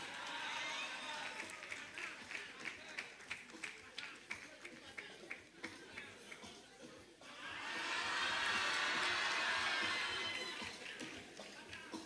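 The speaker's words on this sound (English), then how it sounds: "Shall we give him a round of applause?" Graduation audience at a 2024 ceremony, with scattered claps and taps at first, then a loud, sustained swell of cheering and applause from the crowd that peaks and fades slightly toward the end.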